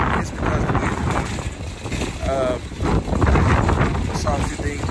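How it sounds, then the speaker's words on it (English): Wind gusting across a microphone outdoors, a loud, steady rumbling buffet that swells and eases over the whole stretch, with a voice faintly present beneath it. "it's kind of windy out here"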